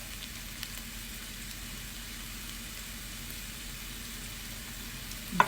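Onion frying in a pan sizzles steadily and softly, with a constant hiss close by and a small clatter at the end.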